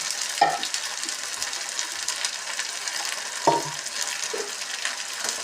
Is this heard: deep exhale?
no